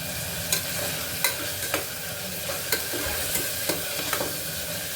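Frozen peas being stirred into a pan of frying tomato bath, with a steady sizzle underneath and several sharp spoon scrapes and knocks spaced about a second apart, close and fairly quiet.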